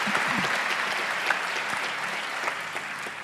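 A large audience claps steadily and evenly at a Christian evangelistic event where a commitment to follow Jesus is applauded. The dense applause holds a constant level throughout, with no voices standing out.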